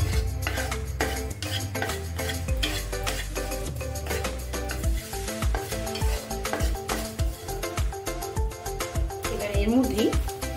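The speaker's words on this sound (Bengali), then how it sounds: "সাদা তিল অল্প করে একটু ভেজে নেব" White sesame seeds are stirred and lightly roasted in a pan, with steady scraping and soft sizzling throughout and a spoon knocking rhythmically against the pan. Background music or speech runs underneath.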